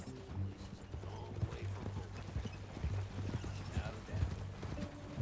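Horse hooves clip-clop at a steady walking rhythm in Red Dead Redemption 2, close and fairly loud over a low droning ambience, with faint murmured voices in the background.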